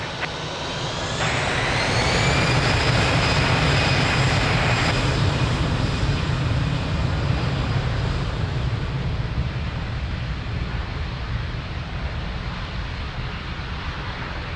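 A jet airliner takes off at Lisbon Airport, its engines swelling to a loud, sustained roar with a rising whine that holds and then slowly fades.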